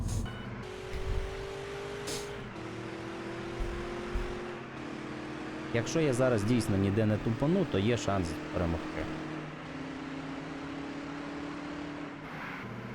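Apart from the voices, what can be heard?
Porsche Taycan car driving in a video game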